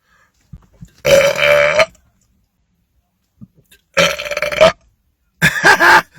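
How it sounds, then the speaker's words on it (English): A man gives three loud, drawn-out belches after drinking Mountain Dew Major Melon, each a second or so long and separated by brief quiet pauses. "A big belch from Major Melon for my most beautiful fan"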